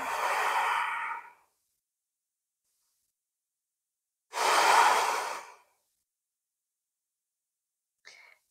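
Two long, soft breaths taken during a leg-flexibility yoga routine, each lasting over a second with a clear pause between them, plus a brief faint exhale at the end, close and quiet with no talking.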